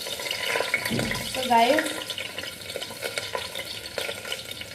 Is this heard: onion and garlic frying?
yes